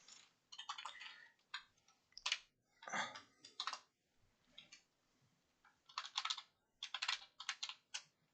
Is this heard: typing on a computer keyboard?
yes